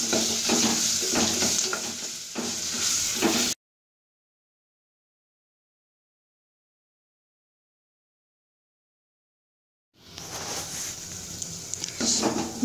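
Ginger garlic paste sautés in a pan for tomato rice, giving a close, steady sizzle with stirring scrapes that cuts out into a long silence midway and then returns.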